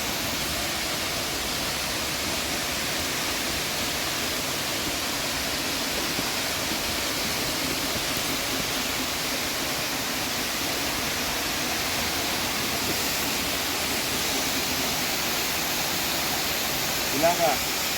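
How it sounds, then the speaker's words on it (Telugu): A forest waterfall near Murga Mahadev Temple, pouring down in three streams, gives a steady, unbroken rushing roar that stays close and even throughout, with no other sounds standing out. "చూడండి ఎంత బాగుందో జలపాతం"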